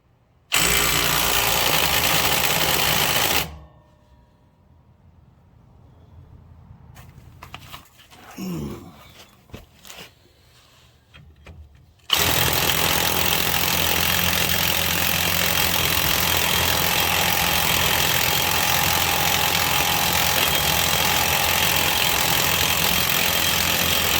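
Engine of a John Deere Z920M zero-turn mower with a failing engine, a loud steady rumbling drone close by that cuts off for several seconds amid faint clanks, then resumes at the same level.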